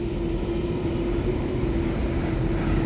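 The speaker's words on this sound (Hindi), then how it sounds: "ये रनवे पर धीरे धीरे अब चलना शुरू हो गया है। आप देख सकते हैं विमान आगे की तरफ बढ़ता हुआ" Airliner rolling slowly along an airport runway before takeoff, a steady loud engine drone with a constant whine, continuous and close throughout with no voices.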